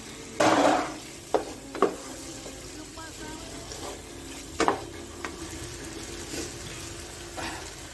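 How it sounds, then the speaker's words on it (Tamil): Fried prawns tipped into a simmering basil and potato gravy and stirred in the pan, giving a wet splash followed by several scraping, sloshing stirs against a soft sizzle. "அந்த ப்ரானை இது கூட ஆட் பண்ணிக்கிறேன்."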